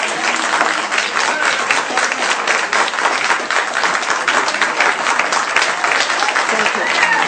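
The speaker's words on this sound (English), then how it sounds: "applause till the end." A large audience at a public forum applauds loudly and steadily throughout, many hands clapping in a thick, unbroken roar.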